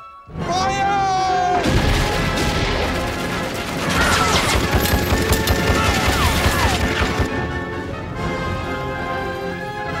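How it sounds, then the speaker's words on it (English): Machine gun fire in a desert war battle scene from the Young Indiana Jones series, a loud, sustained rattle of rapid shots and crashes mixed with battle noise and orchestral music. "There's machine gun fire from the Turkish left."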